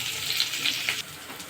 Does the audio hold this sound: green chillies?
yes